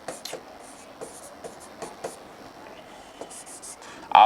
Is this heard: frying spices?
no